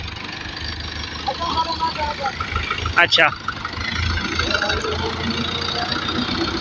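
A tractor engine idles with a steady low rumble throughout, while a voice speaks briefly over it partway through.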